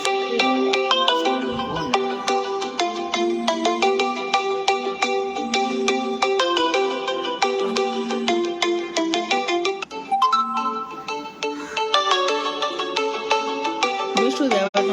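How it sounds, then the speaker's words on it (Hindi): A phone rings with an incoming call, playing a melodic, tone-heavy ringtone that loops loud and continuous throughout, with someone speaking faintly underneath. "विष्णुदेव महाराज हमेशा इसी समय फोन करते हैं"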